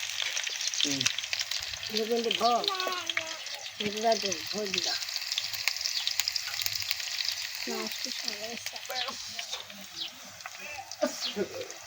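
Onions and tomato sizzling steadily in hot oil in a pan for a fish curry, a close continuous frying hiss beneath intermittent speech.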